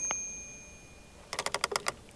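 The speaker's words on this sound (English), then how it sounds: "Let's ring the doorbell." A Fisher-Price Little People toy house doorbell plays a rapid run of bright metallic dings, about eight quick chimes in a row, ringing out clearly after a faint single ping.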